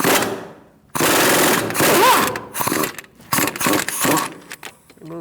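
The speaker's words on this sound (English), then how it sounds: "21mm socket with an extension for the strut bolts. We're going to remove those bolts." Mechanic's 21mm socket on an extension loosens strut bolts on a 2008-2014 Mercedes-Benz C300 front suspension: loud, close bursts of ratcheting and metallic clatter, with rattling tool noise and short pauses between pulls.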